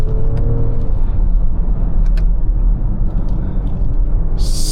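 A 2025 BMW X5 50e plug-in hybrid with its B58 straight-six and electric motor pulls hard under acceleration, a loud, continuous low engine rumble with road roar heard from inside the cabin, no talk.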